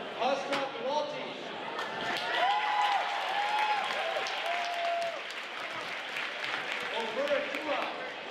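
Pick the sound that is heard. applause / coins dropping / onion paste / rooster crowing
applause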